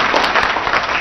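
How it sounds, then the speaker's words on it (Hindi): A live audience at a televised Indian election forum claps to welcome a political guest, giving a short, dense burst of steady applause that fills the space throughout. "मैं चाहूंगा एक बार फिर हम जोरदार तालियों के साथ जरा आज दिन की शुरुआत करें और उनका स्वागत करें।"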